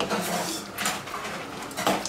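Soaked rice is tipped into a pot of boiling water for chicken biryani, giving soft clattering pot and utensil sounds with a couple of brief louder scrapes against a quiet kitchen background.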